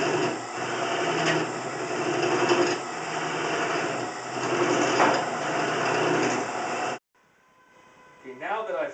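A wooden vessel being hollowed on a wood lathe gives a steady, loud whirring and scraping hum as the tool cuts back and forth, running continuously for about seven seconds before stopping abruptly, with quieter sounds following.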